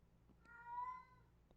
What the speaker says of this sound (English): You guys could hear my cat, I'm pretty sure, just now.